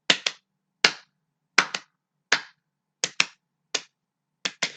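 Crisp hand claps land mostly in quick pairs with a few single claps, sharp and close against silence, in an uneven rhythm.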